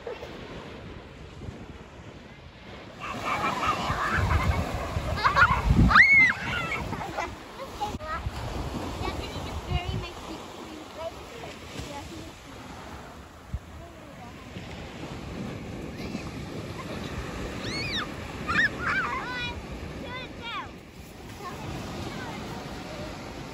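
Ocean waves wash onto a beach under gusty wind buffeting the microphone, with surf rising and falling and faint voices and other activity nearby.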